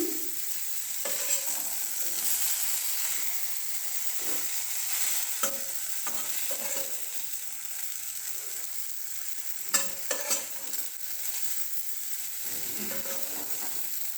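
Tomatoes fry in oil in a pan, a constant close sizzle with occasional scraping and clinking as pieces are turned over, including a sharp cluster of knocks near the end.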